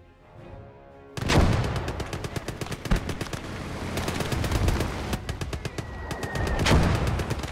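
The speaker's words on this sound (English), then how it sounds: "I'm just gonna get killed by more mortar fire unless I figure out who's shooting the mortars and from where." Video game gunfire and mortar fire in a hedgerow combat setting: loud, close bursts of rapid automatic shots with heavy booming impacts, several sharp cracks and continuous rattling fire.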